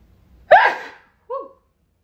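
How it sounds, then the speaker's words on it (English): A single sharp sneeze bursts out close by, trailing off, followed a moment later by a short voiced exclamation. "I had to sneeze."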